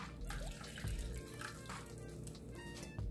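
Half a cup of water pours steadily into a cooking pot for grits, a soft continuous splashing that stays fairly quiet throughout.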